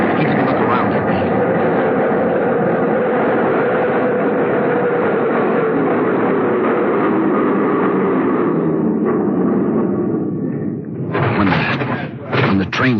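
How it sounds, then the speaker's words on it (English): A train pulls in and comes to a stop in a 1940s radio drama, a loud sustained rumble and clatter that fades near the end, followed by brief sharper bumps. "When the train stopped, he went in through the center door."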